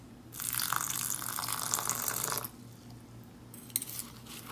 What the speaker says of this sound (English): Yeah, a little bit of water in here.